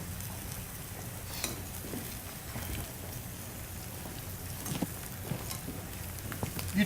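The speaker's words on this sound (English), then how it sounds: "It's starting to simmer a little bit." Broth simmers in a pot on a stove, giving a quiet, continuous bubbling hiss with scattered small pops.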